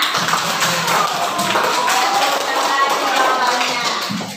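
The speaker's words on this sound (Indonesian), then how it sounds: "berikan aplaus untuk temannya" Students in a classroom clap for a classmate, a dense, steady patter of many hands that holds at an even level for several seconds before trailing off at the end.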